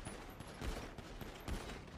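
Rapid gunfire bursts come from a GTA roleplay video game fight. The shots are dense and overlapping, fairly loud and close, and run through the whole short moment.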